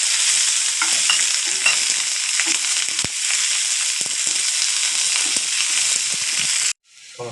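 Chopped onion and garlic sizzle loudly in hot oil in a pan, a dense continuous frying hiss broken by scraping stirs of a spatula, close up, cutting off abruptly near the end.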